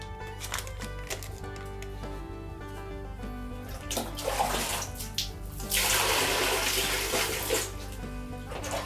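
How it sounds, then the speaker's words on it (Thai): Water poured into a toilet bowl after odor-removing bacteria powder, a steady close splashing and gurgling that grows louder and rougher in the second half. "แล้วก็ให้ราดน้ำตามลงไปครับ"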